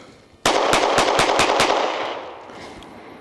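An HK CC9 pistol fires a rapid string of about seven evenly spaced shots at a shooting range. The shots are loud and close, with a burst of ringing echo that fades slowly after the last round.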